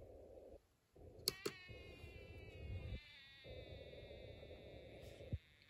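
A Snap Circuits Extreme SC-750 electronic circuit plays a slowed-down meowing tone, faint and drawn out, with soft buzzy pulses and a couple of sharp clicks.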